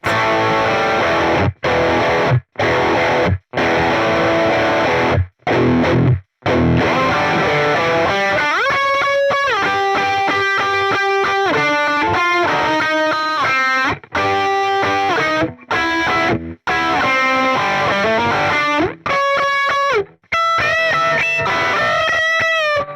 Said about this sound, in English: we might add in the blues driver for that. Once again, we're going to have the volume on parity. This is going to be gritty